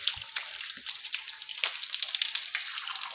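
Water runs steadily from a tap while hands are washed for wudu, a close, continuous splashing hiss with small irregular spatters and no talking.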